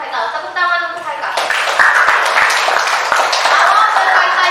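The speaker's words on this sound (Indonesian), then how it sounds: "Tepuk tangan untuk Haikal." A classroom of students claps for a classmate, a burst of scattered hand claps rising after a teacher's voice, with chatter mixed in.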